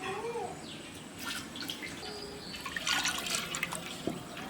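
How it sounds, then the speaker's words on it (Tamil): Cooking oil being poured out for frying pepper murukku in a large home batch, a gurgling, splashing liquid stream with some drips and knocks, close and alone. "முறுக்குக்கு நம்ம 5 லிட்டர் ஆயில் ஊத்திக்கலாம்."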